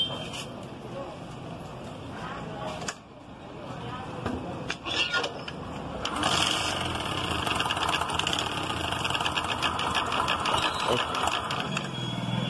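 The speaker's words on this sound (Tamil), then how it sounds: "சோ இந்த வண்டில வந்து ஒரு சவுண்ட் டிஃபரண்டான சவுண்ட்." Bajaj Discover 125 motorcycle with a seized engine, started and running with an odd mechanical noise: a steady idle that grows louder and busier after a few seconds, with voices talking over it.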